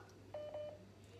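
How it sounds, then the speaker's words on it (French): A telephone's short DTMF dialing beep sounds at moderate volume in a quiet room, with a steady hum underneath. "Oh là, le téléphone."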